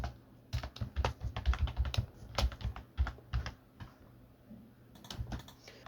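Rapid, uneven typing on a computer keyboard while writing a post, a dense run of close, crisp key clicks with brief pauses and no voices.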